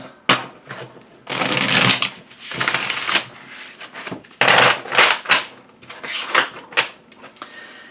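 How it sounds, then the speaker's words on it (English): A large, matte tarot deck is shuffled by hand in several loud, close bursts of riffling and card slaps, separated by short pauses. "you see me sort of shuffling a little messily"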